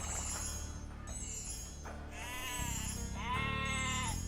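Sheep in Age of Empires II bleat in a string of clear game calls, several wavering baas one after another over a steady game soundtrack.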